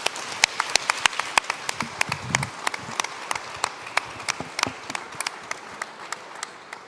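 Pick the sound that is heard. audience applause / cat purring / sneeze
audience applause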